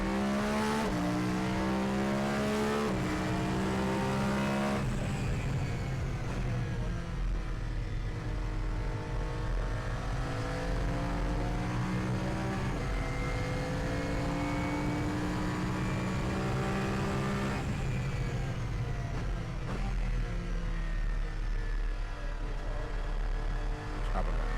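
A race car takes a fast lap on track, its engine roaring loud and close through rising and falling gear changes. The sound stays sustained and dense, with talk faintly underneath.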